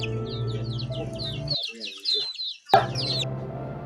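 A chick placed on a raft during a traditional healing ritual peeps in quick, high chirps, repeated rapidly and fairly close. There is a short gap in the middle, then the chirping resumes over a low background murmur.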